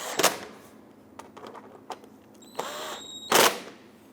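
Tightening 10mm front bumper bracket bolts on a 2008-2013 Infiniti G37 with a power driver, heard as a few short, close whirring bursts separated by quiet pauses.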